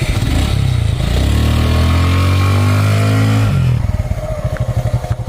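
A motorcycle engine revs up loud and close, its pitch climbing and holding in a steady roar, then dropping back to a throbbing idle.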